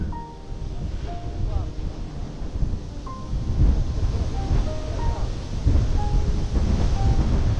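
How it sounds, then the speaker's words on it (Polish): Strong wind roars and buffets the microphone in a continuous low rumble beside the Bug River, with faint bird chirps above. "To ten wiatr straszny."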